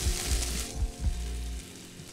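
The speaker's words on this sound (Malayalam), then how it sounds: "ഒന്ന് കുഴഞ്ഞ് കിട്ടുന്ന പരുവം വരെ നമുക്കിതൊന്ന് വഴറ്റിയെടുക്കണം." Onions with garlic paste sautéing in a pan, a steady close sizzle and fry with a few low stirring thumps, no talk.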